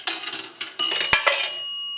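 A coin rattles into a Northern Electric three-slot payphone with a few small clinks, then a single nickel bell strike rings out clearly and loudly before decaying into a sustained tone.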